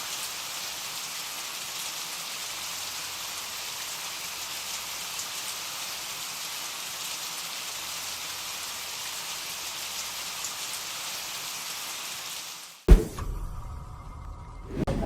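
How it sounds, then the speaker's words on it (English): Steady rain falls for most of the stretch, an even hiss of drops on surfaces, before cutting off abruptly into a brief sharp bump and quieter noise near the end. "Here's what meteorologists mean when they say there's a"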